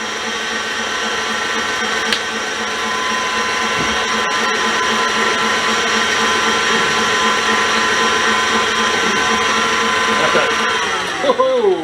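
An electric mixer whips cream in a bowl with a steady, loud motor whir that holds for several seconds before slowing and dropping in pitch at the end.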